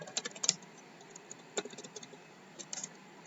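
Soft clicking of keys on a computer keyboard, irregular taps in small clusters, close and quiet with pauses between.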